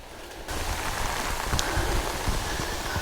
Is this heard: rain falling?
yes